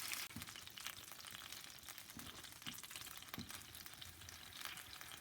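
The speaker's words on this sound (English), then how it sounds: "In with your bacon. We're just going to fry that up" Bacon sizzles and crackles steadily in a hot pan, a dense hiss broken by soft pops and faint stirring clicks.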